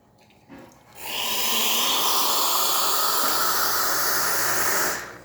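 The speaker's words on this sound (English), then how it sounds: "that's going to relieve a lot of the pressure that's in the steam boiler" Profitec Pro espresso machine steam boiler venting pressure: after a brief click, a loud, sustained hiss of steam rushes out for about four seconds, then cuts off abruptly.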